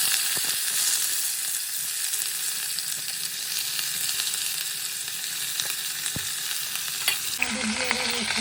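Panch phoron spices hit hot oil in a pan for a Bengali chorchori, giving a steady bright sizzle and crackle with occasional stirring scrapes.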